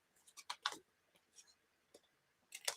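Fabric scissors snip through paper and glued napkin craft material, a series of quiet, close crisp clicks and cuts in uneven bursts, with short pauses between them.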